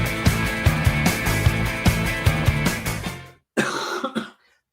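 Coughs land close into a microphone: a couple of sharp, rough bursts right after the music cuts out, loud and dry against near silence.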